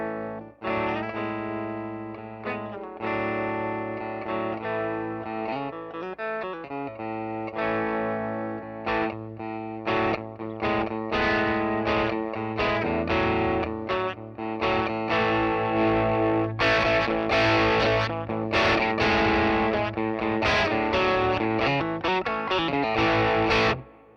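A distorted electric guitar, an Epiphone Les Paul Junior with P90 pickups and its volume knob rolled back to about 5, plays a chugging riff with a slightly softened, deeper tone. Thick chords and single notes ring out steadily, with no talking.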